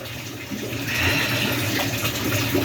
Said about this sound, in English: that pump fills and drains that tank very quickly